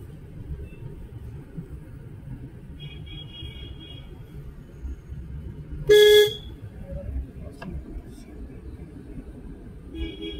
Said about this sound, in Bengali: যে হর্ন মারছে মারতে দাও, আস্তে আস্তে সরো।